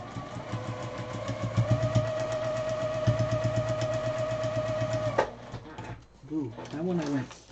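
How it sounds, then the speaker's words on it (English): A home sewing machine stitches a pineapple quilt block with a steady, rapid whirring hum for about five seconds, then stops. Afterward come faint handling noises and a voice talking. "now we'll flip it over and we'll sew on number 11"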